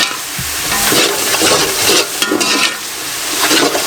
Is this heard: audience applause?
no